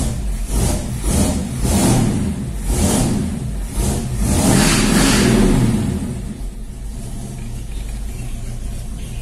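A Ford Maverick 302 V8 with a freshly cleaned carburetor runs nearby, loud and steady, with several rhythmic rev swells before settling into a smooth, even idle; no talking.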